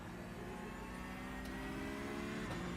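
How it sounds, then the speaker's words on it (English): A car engine in a racing video game revs with a steady, moderately quiet mechanical hum and a couple of faint higher surges, with no talking. "Rev your engine a couple times."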